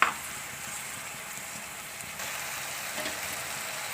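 Peas and cowpea curry with tomatoes frying in hot oil, a soft, steady sizzle close by, faint and even throughout with no voices.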